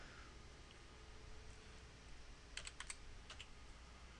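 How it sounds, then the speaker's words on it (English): Quick bursts of keystrokes on a computer keyboard as a verification code is typed in, several close clicks clustered together over a steady quiet background hiss. "Just type in the code."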